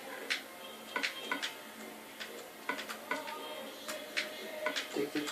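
Ticking clock effect from a Mario video game, a rhythmic run of sharp, bright ticks in small clusters, moderately loud and continuous with no talking over it.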